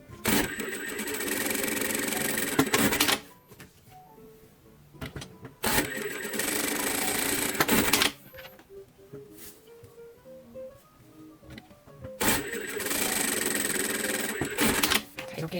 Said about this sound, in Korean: 이제 재봉을 시작하겠는데요